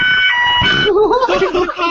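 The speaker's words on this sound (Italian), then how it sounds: "l'allarme di Davide" A loud alarm sounds continuously for two seconds, with a shifting electronic siren-like tone up close, in a gaming session.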